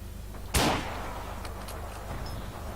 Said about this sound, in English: Somebody's shooting at me from behind